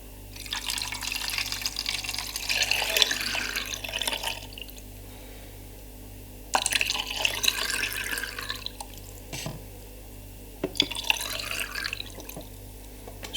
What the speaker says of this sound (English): we'll just start pouring the development in now